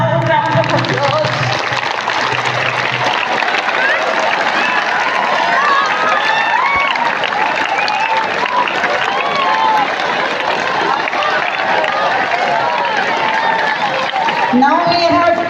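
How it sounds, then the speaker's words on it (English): An audience at a farewell ceremony for Miss Sheril Bhaskar breaks into loud, sustained applause. Dense clapping and crowd noise fill the room without pause for about fifteen seconds. "Give him a loud round of applause."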